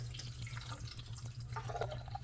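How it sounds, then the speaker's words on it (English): Water from a tap turned on low trickles and splashes softly into the plastic tank of an Arctic Air Cooling Tower 2.0 portable air conditioner, with a faint hum underneath. "We're going to fill her with some water. Just going to turn it on really low, and then just fill it up."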